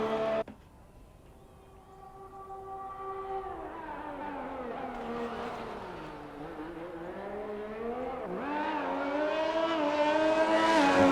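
Race car engine on a qualifying lap of the Bahrain circuit in a racing video game, a steady droning whine that dips and rises through gear changes and builds to a loud, high-revving pitch.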